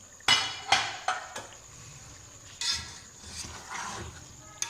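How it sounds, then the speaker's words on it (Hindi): A metal lid lifted off a cooking pot of homemade biryani with tomatoes, giving several sharp clinks and clatters in quick succession, then softer rattles, close and fairly loud against a quiet kitchen. "ढक्कन हटा कर देख लेंगे"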